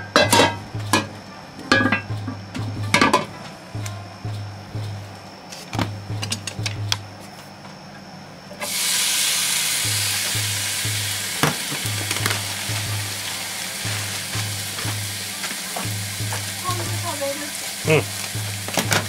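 Cabbage yakisoba fries in a large batch, starting with sharp tool clicks and scraping over a low sizzle, then swelling to a loud, steady frying hiss for the rest.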